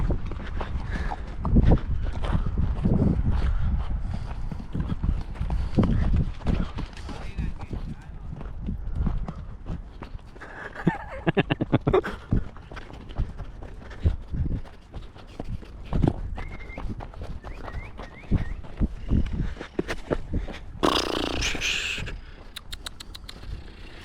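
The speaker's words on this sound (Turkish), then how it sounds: "İndi atı bir də gəlib." Horse hooves clip-clopping and thudding at a run, uneven bursts coming close and loud, with a neigh and people calling and talking over them in an outdoor setting.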